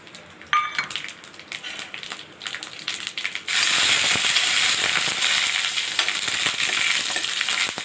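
Curry leaves, dried red chillies and mustard seeds hit hot oil in a pan at home, starting with a few crackles and then erupting into a loud, steady sizzle with sputtering pops that carries on without pause.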